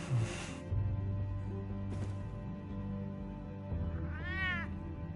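A cat meows loudly and drawn out in a Batman: The Telltale Series game scene, with a sharper meow near the end over a steady low game soundtrack.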